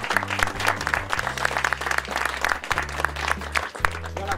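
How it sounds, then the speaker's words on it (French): A crowd at a village bread festival applauds a baker, with steady, lively clapping under which a low sustained tone, probably music, rises and drops in pitch. "Je voudrais qu'on l'applaudisse"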